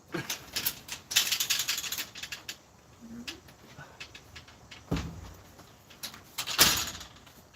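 Someone at home shuts a door: a stretch of scattered rattles and clicks of handling leads to a dull closing thud, then a few more light taps nearby, with no voices.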